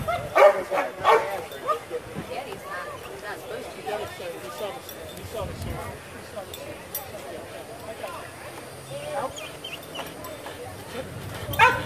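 A dog barks and yips during a police-style bite demonstration at a motorcycle charity event, with sharp barks scattered through the clip under steady crowd and handler chatter.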